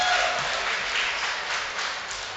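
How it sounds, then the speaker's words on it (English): Crowd applauding and cheering at a provincial bouldering competition final, a dense burst of clapping and voices that stays loud and steady throughout. "you hear the crowd cheering."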